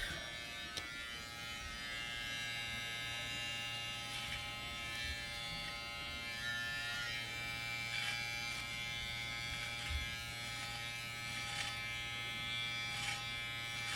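Electric hair clippers with a 0.7 mm guard buzz steadily and close up while cutting the top of the side section during a self-given high fade haircut, a continuous whine running the whole time with no talking.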